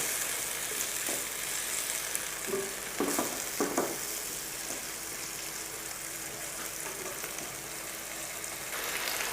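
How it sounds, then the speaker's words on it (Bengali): Onion paste, tomato and spices fry together in hot oil, giving a steady, close, even sizzle with a few soft stirring knocks near the start. "এগুলো আমি এখন সব একত্রে ভেজে নিব।"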